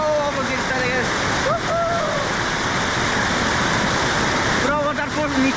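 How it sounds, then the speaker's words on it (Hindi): Kynrem Falls in Meghalaya roars in a steady, dense wash of rushing, splashing water close by, and people talk over it now and then. "पूरा वाटरफॉल नीचे जा रहा है भाई।"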